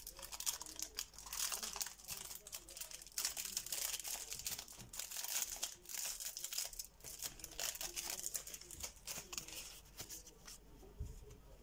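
A plastic surprise packet from a homemade Hello Kitty surprise bag is torn open up close, giving continuous crinkling and tearing rustles with no talking.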